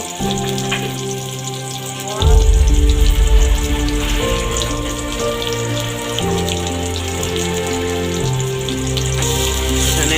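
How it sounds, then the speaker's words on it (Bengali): Spiced food frying in a pan while it is stirred and mixed, a steady close sizzle running under loud background music. "আবারও নেড়ে সব মিশিয়ে দিচ্ছে ভালোভাবে মশলা"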